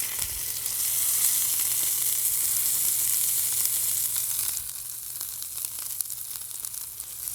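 Frozen ground beef browning in a pan, a dense close sizzle with fine crackling that stays loud, then eases slightly partway through with a few sharper pops, no talk.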